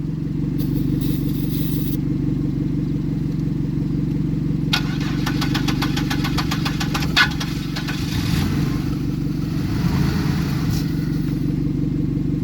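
A Mazda Protege or Buick LeSabre race car with no fuel cranks over repeatedly with a steady, loud churning drone and a rapid ticking rattle in the middle, close by and without talk.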